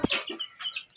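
Chicken clucking close by in a short burst of several rapid clucks and a higher squawk, alone without talk.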